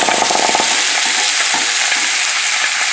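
Butter, shallots and mushrooms fry in a hot pan for a Newburg-style shrimp and scallop sauce, giving a loud, steady crackling sizzle that runs the whole time with no talking.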